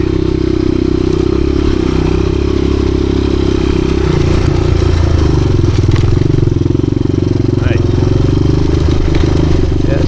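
A 1986 Honda XR200R dirt bike on a trail ride, its engine holding a loud, steady drone close by with mechanical clatter and occasional scrapes over the top.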